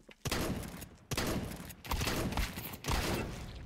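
Shotgun blasts in Counter-Strike 2, four loud, close booming shots spaced about a second apart, each with a short decaying tail.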